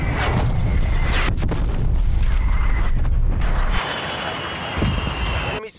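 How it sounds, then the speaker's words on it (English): Incoming artillery pounds down in Call of Duty: Black Ops Cold War, heavy rumbling blasts and booming impacts stacked loud and close, easing into a lighter rumble near the end. "Artillery inbound."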